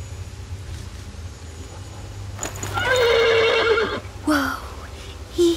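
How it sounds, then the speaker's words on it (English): In The Pillars of the Earth video game, a horse lets out a loud, close whinny lasting about a second, followed by a couple of short snorts over low ambient background. "The horse nearly woke the guard."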